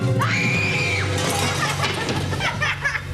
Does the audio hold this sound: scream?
yes